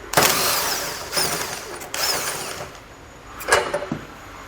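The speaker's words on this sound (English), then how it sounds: "I'll use a 21mm socket to do that" Close, loud bursts of a power tool driving a 21mm socket to remove a large frame rail bolt on a 2020 Ford Explorer, several short whirring pulls separated by brief pauses, with no speech.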